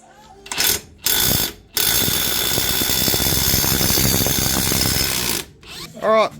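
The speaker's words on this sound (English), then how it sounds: "and then we can get this old center bearing off." An air impact wrench or power tool working on a Ford Falcon BA XR8 driveshaft to free the old centre bearing. It gives short loud bursts, then one long sustained whirring run, close up, with a brief mechanical whine at the end.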